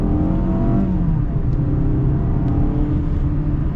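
Steady, loud engine drone from a 2024 Mazda CX-5 pulling under acceleration, a continuous hum with gradually shifting pitch throughout.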